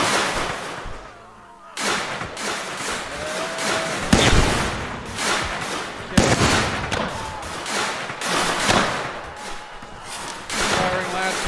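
Musket volley gunfire in a Civil War mod of Mount & Blade Warband, loud and close, with repeated ragged cracks of shots spread across the whole stretch and dense battle noise between them.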